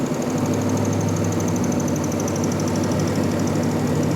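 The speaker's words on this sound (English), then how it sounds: "Look how smooth it's idling." A 1957 Chevy small-block V8, revived after more than forty years, idles smoothly and steadily at close range, a continuous low rumble with no voices over it.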